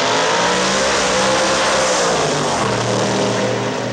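A grudge race car engine roars loud and close, holding a steady high-revving drone with sustained harmonic tones that shift slightly in pitch near the end.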